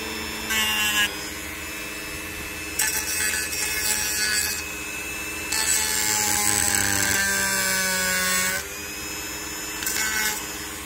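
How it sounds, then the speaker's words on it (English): A Dremel rotary tool cuts into a headlight projector housing, a steady high whine with several louder bursts of harsh grinding as the bit bites, close and alone. "I'm using a Dremel tool for this"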